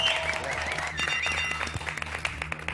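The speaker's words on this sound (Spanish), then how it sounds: "Pido un aplauso a Luis Brandoni" A television studio audience applauds a guest with a short burst of clapping, while a voice and some music sound underneath.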